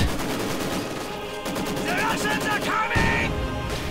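Rapid bursts of Maxim machine gun fire in a video game rattle close and loud, broken by the sharp blast of a rifle grenade near the end, while a voice talks over the battle.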